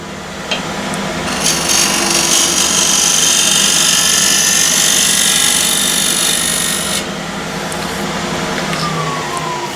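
A turning tool scraping across a cross-grain ash wood box on the lathe, giving a loud, steady rasping hiss that swells for several seconds, then eases to a softer continuous scrape, no talk.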